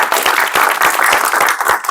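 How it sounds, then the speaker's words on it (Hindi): Applause for a little girl at a gathering, dense loud clapping from many hands with a crowd filling the space, steady throughout. "ताली बजाओ बच्ची के लिए"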